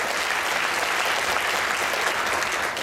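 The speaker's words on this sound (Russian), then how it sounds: "Аплодисменты нашему земляку!" An audience at a forum in Moscow applauds steadily, dense clapping from a large crowd filling the space at even loudness throughout.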